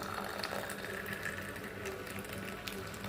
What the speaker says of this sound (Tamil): சூடான பாலை ஊற்றி நல்லா மிக்ஸ் பண்ணி